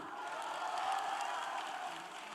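Outdoor festival audience clapping together at a trot singer's stage show at the Hapcheon arts festival, a dense steady wash of applause filling the whole stretch, fairly even in loudness with no voices standing out.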